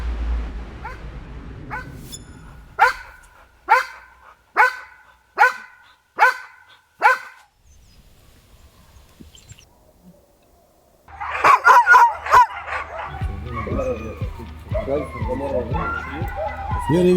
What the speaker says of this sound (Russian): Если лает, пойдем на лай.